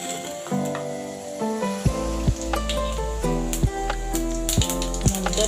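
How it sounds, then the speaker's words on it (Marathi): Cumin seeds sizzle in hot oil for a green tomato chutney, a steady close frying hiss with crackling pops, heard under background music with no talk. "तेल तापल्यावर आपल्याला जिरं घालायचं आहे।"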